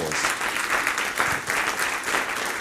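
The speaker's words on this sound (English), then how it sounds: "Let's give the Lord a round of applause." Church congregation applauding, a dense, steady round of clapping that fills the room, loud and unbroken with no talk over it.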